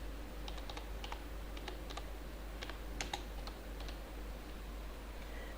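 Quiet, steady clicking of keys on a computer keyboard while C code is typed, the keystrokes coming in short uneven bursts with brief pauses, close by and alone.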